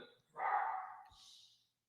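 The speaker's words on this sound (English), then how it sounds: "Hold on, my dog's barking." A dog barks outside, a single short, muffled bark heard faintly at a distance in an otherwise quiet room.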